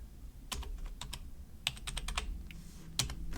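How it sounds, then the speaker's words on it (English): A quick run of taps on a computer keyboard enters a word into a spreadsheet cell, with about a dozen crisp, close keystrokes in an uneven rhythm and no talking. "In cell G1, I'm going to type the word"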